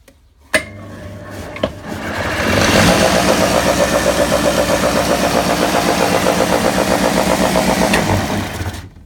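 A powerful 1200-watt electric motor on a table saw with a wooden pulley spins up after a couple of clicks and then runs steadily with a loud, continuous hum, winding down near the end.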